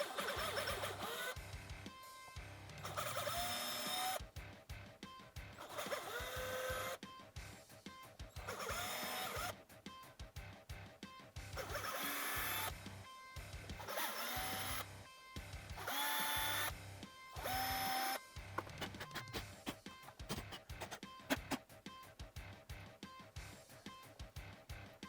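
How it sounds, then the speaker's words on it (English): Power drill boring screw holes into the wood body of an Ibanez RG270 guitar for a pick guard install, repeated close whirring bursts of a few seconds each, separated by brief pauses. "while you're drilling these holes, try to make sure the bit is going down into the center of the hole as much as possible"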